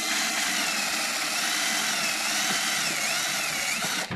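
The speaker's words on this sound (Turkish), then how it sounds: "Şimdi ben başladım delmeye." A power drill with a three-size bit runs steadily, boring hole after hole into the bottom of a wooden beehive, a continuous loud whine that holds for the whole stretch with no voices.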